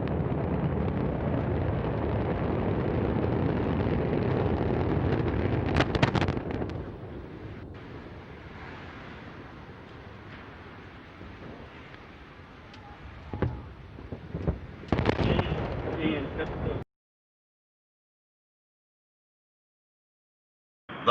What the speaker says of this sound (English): And we have liftoff of Antares, the Orbital 3 mission, delivering Cygnus on its third CRS mission to the ISS.